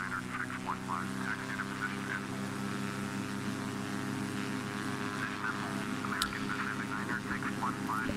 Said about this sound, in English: I had to turn down the sound for this clip, the takeoff clip, because this aircraft is really loud on takeoff